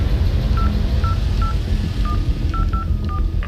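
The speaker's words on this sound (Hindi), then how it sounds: "मेजर ने तुरंत ही विनय को फोन किया।" A telephone keypad being dialed: a series of about eight short DTMF tones in an uneven rhythm, heard clearly over a low, steady background rumble, with no talking.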